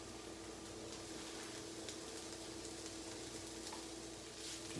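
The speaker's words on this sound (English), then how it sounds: "Mix it around in there real good." Hamburger and spices stirred in a pan give off a faint, steady sizzle with soft scraping, continuous and low in level.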